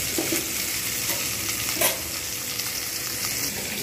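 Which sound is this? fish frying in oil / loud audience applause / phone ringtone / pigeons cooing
fish frying in oil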